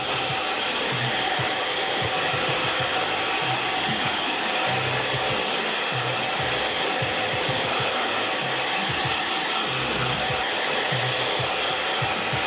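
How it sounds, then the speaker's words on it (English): A hair dryer blowing continuously on a man's medium-length hair in a salon, a loud, steady whooshing whir held throughout with slight fluttering as the airflow moves, no talking. "Now I'm just going to dry it forward as well. To dry the interior of the hair."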